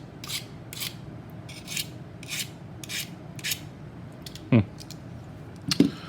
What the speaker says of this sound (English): hone an edge on a knife here with that